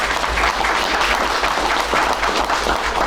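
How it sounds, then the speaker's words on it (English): Audience applause at a county fiscal court meeting, steady dense clapping from a modest crowd in a meeting room, sustained throughout. "I'd like to give her a big round of applause for everything she's done"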